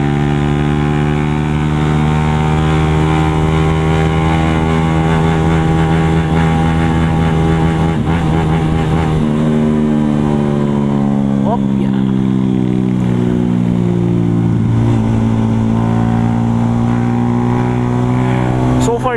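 A remapped motorcycle revs hard while riding, its engine note loud and close, climbing and shifting through gears steadily over nearly twenty seconds, with a rider speaking over it.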